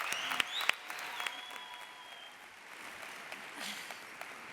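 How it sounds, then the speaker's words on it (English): Warm applause from a conference audience at a summit plenary session, moderately distant steady clapping with a few sharper claps near the start, fading slightly then holding. "So let's give a warm round of applause once more."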